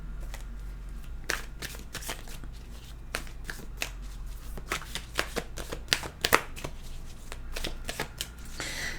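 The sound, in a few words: shuffling tarot cards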